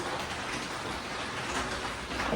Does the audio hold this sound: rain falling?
yes